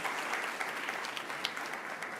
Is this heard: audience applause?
yes